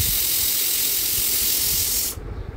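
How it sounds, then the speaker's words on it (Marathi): A pressure cooker with stuffed brinjal curry vents steam in a loud, close, continuous hiss that stops abruptly near the end, leaving quiet background noise. "झाकण लावून कुकरला 1 शिटी काढायची"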